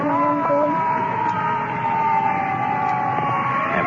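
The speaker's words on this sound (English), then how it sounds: "Ambulance taking off." An ambulance siren wails steadily and loudly, drifting in pitch as the vehicle pulls away, with crowd murmur and general commotion underneath in an old-time radio drama scene.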